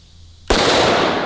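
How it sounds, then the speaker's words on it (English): A Desert Eagle .50 AE pistol is fired one-handed at a steel-target range: a single sharp, loud boom after a moment of quiet, with a sustained rumbling decay. "John talked me into shooting it one-handed"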